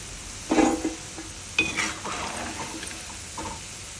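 Onion bondas fry in medium-hot oil with a soft sizzle, broken by a few clinks and scrapes of a spoon against the pan, all close and fairly quiet with no talking.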